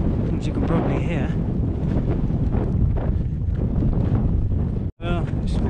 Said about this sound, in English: it's still very windy, as you can probably hear